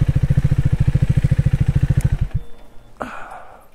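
A motorcycle arriving at a homestay in Gufapatal, Nepal, idles with a loud, rapid, even thumping, then cuts off abruptly. A short metallic clank follows in the quiet.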